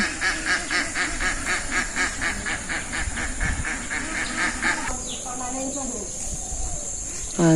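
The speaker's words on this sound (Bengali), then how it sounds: "হাঁসগুলা ছাইড়ে দিছি" A flock of ducks quacks in a rapid, rhythmic chorus, loud and close, then a voice briefly speaks as the quacking thins out.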